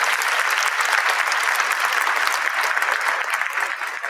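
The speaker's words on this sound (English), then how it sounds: "Let's give these students a round of applause." A convocation audience at Southern University's Founders' Day applauds honor students who have stood to be recognized: dense, steady clapping from a large crowd, sustained and even throughout.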